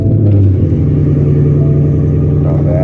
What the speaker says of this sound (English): let's get it started with the low cold start